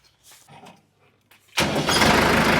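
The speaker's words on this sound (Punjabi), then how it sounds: "ਇਹਨੂੰ ਸਟਾਰਟ ਕਰ ਬਈ ਇਹਦੀ ਬੜਕ ਦੇਖੀ ਯਾਰ ਪਹਿਲਾਂ ਟਰੈਕਟਰ ਦੀ ਇਹਦੀ ਸੈਲਫ ਮਾਰਿਓ" A model 5630 tractor is started with its self-starter in a Punjab village. After faint murmurs and a quiet moment, the engine catches abruptly and settles into a loud, close, steady diesel idle.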